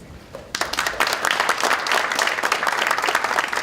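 An audience applauds at a political committee launch ceremony, dense steady clapping that starts abruptly after a brief quiet moment and continues loud and full throughout, with no voices over it.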